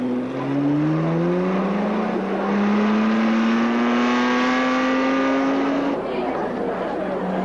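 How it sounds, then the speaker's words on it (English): Race car engines revving together in a steady, loud roar, with rising engine tones climbing in pitch over several seconds before dropping off, as a crowd-like wash of noise fills the background. "start your engines"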